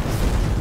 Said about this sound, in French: une petite grenade ici